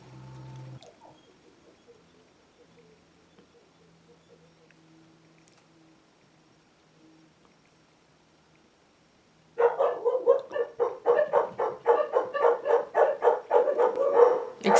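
Several dogs bark excitedly at the mailman, a sudden burst of loud, rapid, overlapping barks erupting near the end after a long quiet stretch.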